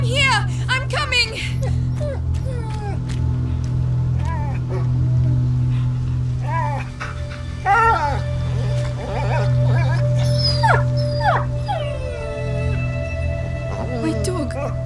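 Dog whimpers and yelps in A Plague Tale: Innocence, high wavering cries scattered over a steady low drone, mixed with anxious voices speaking.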